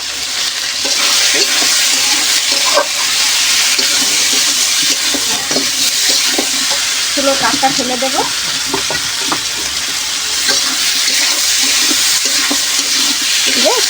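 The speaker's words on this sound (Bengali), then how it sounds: "একটু ভাজা ভাজা করে নেব।" Vegetables fry with salt and turmeric in a pan over a wood-fired stove, giving a loud, steady sizzle broken by stirring scrapes, while a voice speaks briefly midway.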